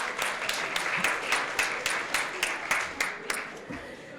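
Audience applause for the caterers and staff at a city State of the City event in DeSoto, Texas: moderate, steady clapping from a seated crowd, with sharper individual claps standing out.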